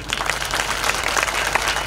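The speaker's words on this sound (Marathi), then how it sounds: "एकदा टीम करता सगळ्यांनी टाळी वाजवा." An audience claps at a Marathi comedy bharud folk performance. The applause is dense and steady from start to finish, with no voices on top.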